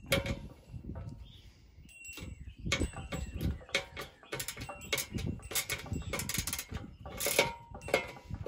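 A socket wrench tightens bolts during assembly of a Yardmax 1.6 cu ft electric concrete mixer, giving irregular ratcheting clicks and metallic rattles, close and moderately loud with brief pauses.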